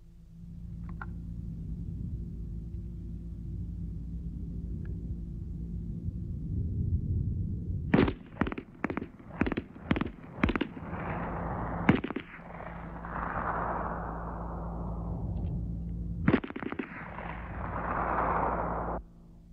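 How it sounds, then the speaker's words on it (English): An MP-18 submachine gun fires in short bursts of sharp cracks that come about every half second, then a longer rattling string, set against a low steady rumble with no voices. "You can see that the shooter of the submachine gun tackled his targets in only 5 seconds"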